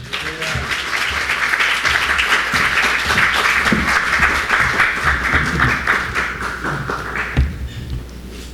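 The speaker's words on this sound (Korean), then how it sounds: "우리 할렐루야 박수로 환영합니다." A church congregation applauds to welcome the pastor at a Korean Presbyterian service, with dense, steady clapping that fills the room, then eases off near the end.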